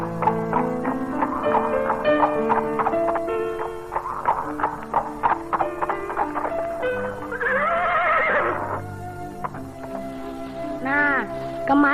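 Horse neighing and whinnying at close range, repeated several times over a steady clip-clop of hooves, with music and voices in the background of an Indonesian period drama scene.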